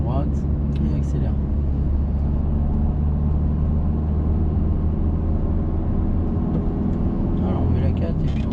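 A learner driver's car accelerates during a driving lesson, with a steady, droning engine and road rumble heard from inside the cabin, continuous and fairly loud, while people speak over it.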